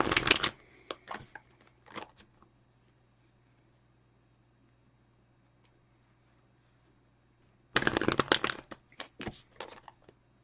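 Tarot cards are shuffled in close, crisp riffling bursts at the start and again near the end, with a long near-silent pause between.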